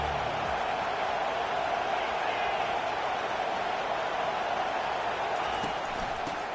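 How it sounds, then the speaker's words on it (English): Crowd noise in an NCAA football video game, building on a third-down defensive stand: a broad, continuous roar of the stadium crowd holds loud and steady throughout. "Decibels rising as the crowd gets behind this defense on 3rd down."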